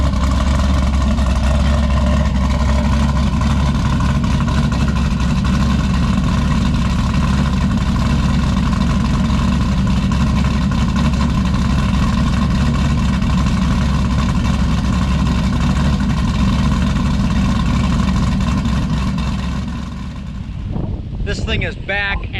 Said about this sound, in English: We do appear to be running on all 8 cylinders